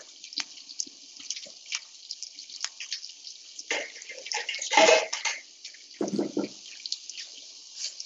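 Liquid poured into a pan with lamb in a restaurant kitchen demo: intermittent splashing and trickling, with a louder pour midway and more near the end.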